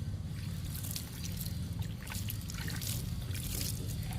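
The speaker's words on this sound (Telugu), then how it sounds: "ఇప్పుడు ఆకుకూరలకు కూడా ఇచ్చేద్దాము లిక్విడ్ని." Homemade liquid fertilizer, mixed from three ingredients, is sprinkled over young amaranth greens in a garden as a steady, close trickle and splatter that runs unbroken throughout.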